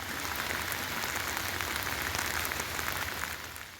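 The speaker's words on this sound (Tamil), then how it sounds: "சூறைக்காற்றுடன் பலத்த மழை பெய்தது" Heavy rain pours in a steady, dense hiss with gusting wind over a town in Tamil Nadu, constant and enveloping before easing slightly at the end, with no talking.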